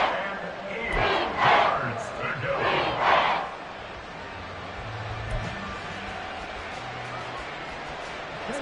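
A large crowd roars and chants at an NFL football stadium during a Chargers game, with surges of loud cheering early on that settle into a steady crowd rumble under a commentator's voice.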